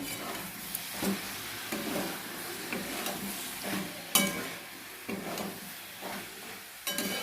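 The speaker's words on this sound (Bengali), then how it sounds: "একটু ভালো করে কষে নিই" Soybean curry frying in a pan with repeated stirring, a steady sizzle broken by scraping strokes and spoon taps about once a second, close and moderately loud, with no voices.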